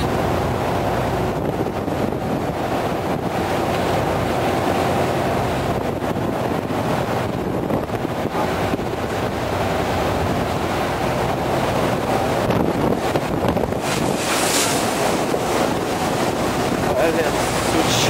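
Strong wind roars across the microphone with the wash of waves on a boat drifting backward at sea in rough water; the rushing noise is loud and constant, and someone talks over it.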